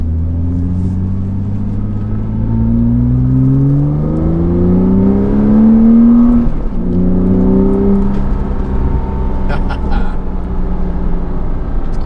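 A Porsche Cayman S with a Fab Speed exhaust revs at low speed, its deep throaty rumble rising and falling in pitch over several sweeps, loud and close inside the car.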